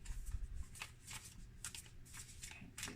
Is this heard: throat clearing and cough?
no